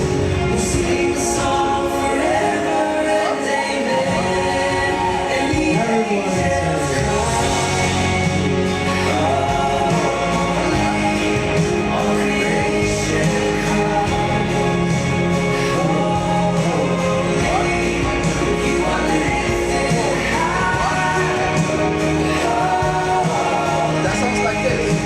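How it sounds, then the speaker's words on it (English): A drum kit plays at a conference session alongside bass, with a dense, continuous groove of kick, snare and cymbals running throughout, loud and full. "I play drums."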